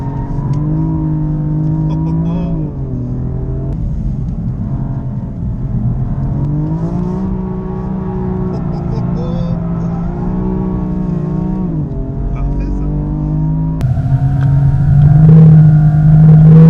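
A BMW GT4 race car drifts around a track, its engine droning steadily with shifting revs under a constant close cabin rumble, the pitch rising and falling through the lap before swelling louder at the end.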